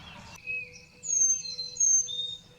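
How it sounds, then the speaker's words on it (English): Birds sing and chirp on a morning porch, clear high whistled notes in short phrases repeating over a quiet background, close and alone with no talk. "And the birds were singing."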